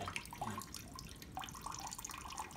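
Water rushes steadily into a toilet tank refilling from the reopened main supply, a continuous close hiss and trickle with small splashy bursts throughout.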